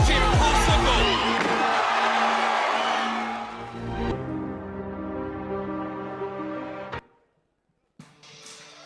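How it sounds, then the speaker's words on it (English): A tournament crowd at the World Chase Tag championships erupts in loud cheering and shouting, then fades into a sustained tonal hum before cutting to near silence and a brief return of noise. "Listen to the crowd."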